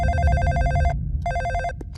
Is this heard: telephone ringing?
yes